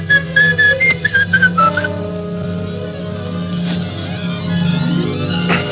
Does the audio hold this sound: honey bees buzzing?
no